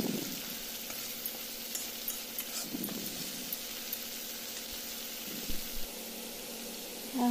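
Okra frying in a pan gives a steady, soft sizzle with a faint hum underneath, broken by occasional scrapes and taps of a spoon as the vegetables are stirred, close by and without speech.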